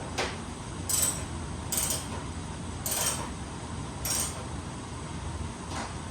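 Ratchet clicks from snugging a hood strut bolt by wrist on an R34 Nissan Skyline, heard as faint, evenly spaced bursts about once a second in a quiet garage.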